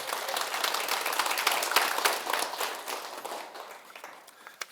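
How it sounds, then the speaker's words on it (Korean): Applause from an audience at a Korean talk on living wisely, a crackling wash of many hands with sharp individual claps standing out, fairly close and lively, tapering off toward the end. "큰 박수 한번 부탁드립니다"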